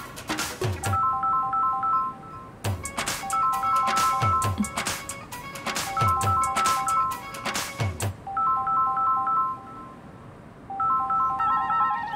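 A phone ringtone plays a repeating electronic melody, with loud bursts of noise breaking in between phrases.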